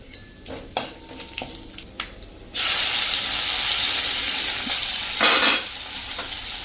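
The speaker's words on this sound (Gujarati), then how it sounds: "અને એને આપણે સહેજ કૂક કરી લેશું આ રીતે તેલમાં, એટલે એની કચાશ દૂર થઈ જાય" Ground dry coriander spice paste added to hot oil, starting with a few light clinks and then bursting into a loud, steady sizzle, with a brief surge when it is stirred.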